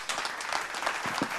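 Audience applause from a live Tamil stage show crowd, steady dense clapping sustained throughout at moderate distance, with no talk over it.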